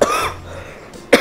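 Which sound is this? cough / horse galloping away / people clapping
cough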